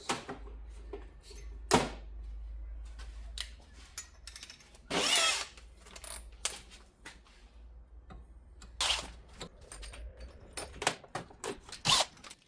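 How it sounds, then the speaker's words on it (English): Power drill boring through metal with a 7/16 bit while fitting a 1/4 inch NPT fuel line fitting on a Willys MB, heard as short bursts of whirring and grinding separated by pauses and clunks. "And I think a 1/4 inch requires a 7/16 drill bit."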